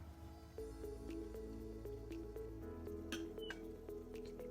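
Faint drips and soft squishing sounds come from water being drawn up into a cup placed over a burnt-out candle in an air pressure experiment. A low hum runs underneath.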